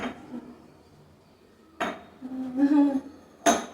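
Glasses and dishes being handled while a kitchen is packed up: a few scattered clinks and knocks of dishware, with a louder clatter near the end, close by and with no talk.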